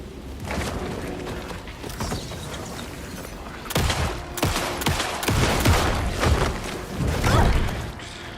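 Pistol shots in Alan Wake 2 crack out in irregular bursts over dark game ambience, several sharp loud reports clustered in the second half, with no talk.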